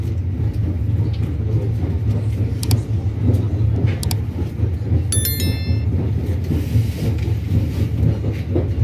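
A Brebes train pulls into a station in Indonesia with a continuous low rumble and clatter. Scattered clicks and a brief high ringing tone sound over it.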